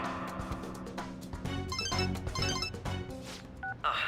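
A phone rings in the video game Persona 5, giving short electronic tones over a layered musical game soundtrack that plays throughout.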